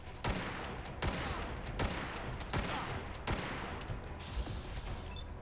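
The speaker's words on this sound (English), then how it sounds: "We'll just shoot this guy normally." Trail Carbine rifle shots in Fallout 4, fired one at a time in a steady rhythm, about seven loud sharp cracks spaced under a second apart over a continuous game background.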